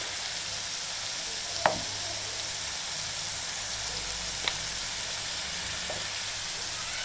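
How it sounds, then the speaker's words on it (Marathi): Green chilli and garlic fry in oil, producing a continuous even sizzle with a couple of sharp utensil clicks against the pan, heard up close without any voices. "मी पण अशी चांगली फ्राय करते तेलामध्ये"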